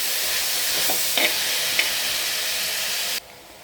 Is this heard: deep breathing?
no